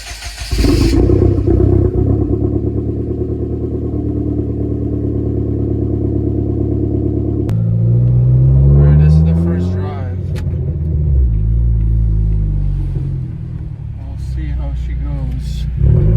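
A Hyundai Genesis Coupe engine after a tune, a loud steady idle rumble, then a sharp change as revs rise and fall with brief blips, close up, with a voice speaking over parts of it.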